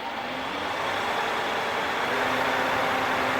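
A wood lathe spins back up in a workshop, a steady broadband whir with a faint low hum that holds constant and slightly swells, close by and without speech.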